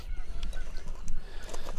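Geese flying overhead give scattered honks, distant and fairly faint over a constant outdoor rumble, with a few separate calls and no speech.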